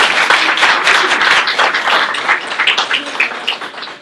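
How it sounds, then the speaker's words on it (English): An audience at a Lions Club award gathering breaks into applause, a dense burst of close hand clapping that thins out toward the end. "Let's give Betsy a round of applause."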